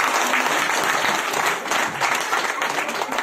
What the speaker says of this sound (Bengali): ওনাদের জন্য একবার হাততালি দিন।